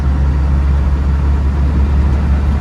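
A 1998 Land Rover Defender 110 300Tdi cruises in fifth gear at about 50 mph, giving a loud, steady low diesel drone with road rumble and no break.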